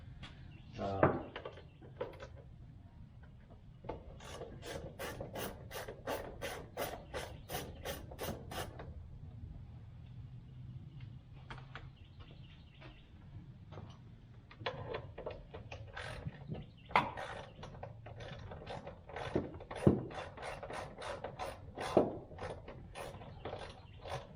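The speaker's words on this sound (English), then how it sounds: "I've got to take these Torx out so I can get this whole shelf out" Torx screws being backed out of a shelf panel in a Mercedes SL 550 interior, heard as repeated rapid ratcheting clicks in bursts with scraping and rubbing, fairly close and moderate in level, with no talking.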